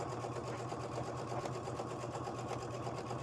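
A sewing machine runs steadily, its rapid mechanical stitching hum continuous and close throughout, with no voices.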